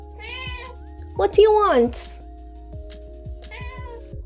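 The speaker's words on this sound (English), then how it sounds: "She's literally looking at me and meowing." A pet cat meows insistently indoors, a few drawn-out, rising and falling cries up close, with one louder, strained meow in the middle, while a person talks over it.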